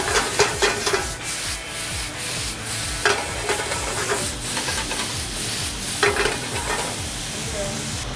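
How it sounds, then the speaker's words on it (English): Oyster mushrooms go into a hot stir-fry pan and are tossed, making a continuous sizzle overlaid with rhythmic scraping and rubbing strokes of a utensil against the pan. Several sharper clatters punctuate the close, steady cooking. "Add our oyster mushrooms last, so they don't cook for too long."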